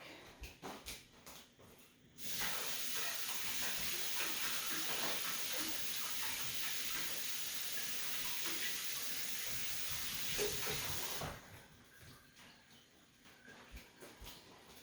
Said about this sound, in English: I'm gonna go wash my hands off real quick.